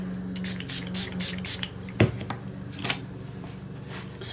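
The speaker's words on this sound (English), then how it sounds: "Spritz that with some water." Spray bottle spritzing water in a series of quick hissing bursts, several in a row and then a few scattered ones, up close over faint tapping and handling noises.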